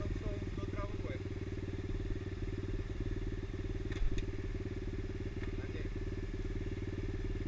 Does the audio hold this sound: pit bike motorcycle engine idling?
yes